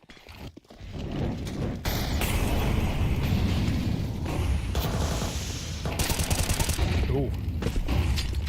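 A grenade explosion and gunfire in Counter-Strike at PGL Astana 2025: a heavy, rumbling blast with scattered shots and crackling, under continuous crowd noise and excited commentary.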